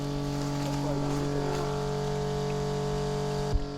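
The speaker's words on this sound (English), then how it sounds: "So we're not getting enough flow into the container for what the pump is pumping out." A water pump draws water from an intake and pumps it out of a container, giving a steady droning hum with strong, even tones and one brief knock near the end.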